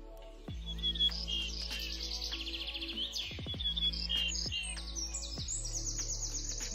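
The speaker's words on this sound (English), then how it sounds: "Because of a tree, a bird." Bird chirps and tweets used as a sound effect during a children's book read-aloud about an acorn and a tree, a layered chorus of bright twittering calls over soft background ambience, with no voices.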